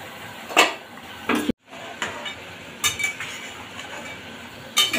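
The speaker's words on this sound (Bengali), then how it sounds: "ঢাকনা খুলে দেখি কেমন হয়েছে।" The lid of a pot of egg and potato curry being lifted off: several sharp metallic clinks and scrapes, close by, spread over a few seconds above a soft steady simmering hiss.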